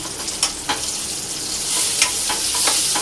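Spice masala fries in oil in a pan while being stirred, a close, bright, steady sizzle broken by a few scraping strokes of the spoon.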